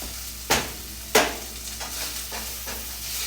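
Food frying in a covered pan, a low steady sizzle broken by two sharp clacks early on, then softer periodic scraping or stirring strokes, close and without speech.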